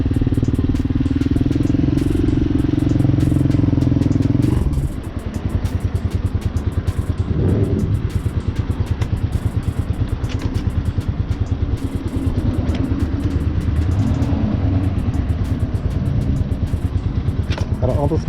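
A Honda Hawk motorcycle engine runs steadily and close by, a loud low rumble that drops to a lighter idle partway through, with crackling and brief voices over it.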